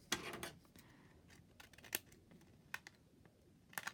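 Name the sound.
scissors trimming paper envelope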